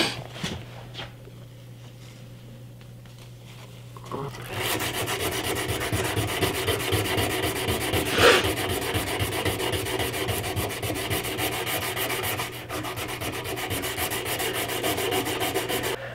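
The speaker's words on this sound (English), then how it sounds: "We'll just start sanding. I'm starting with 180 grit paper." After a few quiet seconds, steady back-and-forth sanding with 180 grit sandpaper begins, a close, continuous abrasive rasping that keeps an even rhythm to the end.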